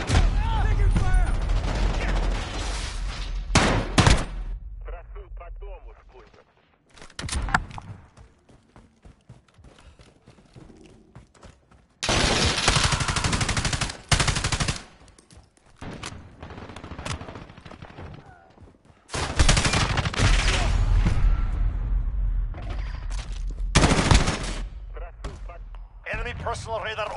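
Gunfire in the video game Call of Duty, with loud bursts of rapid shots broken by quieter stretches, mixed with game sounds and voices speaking.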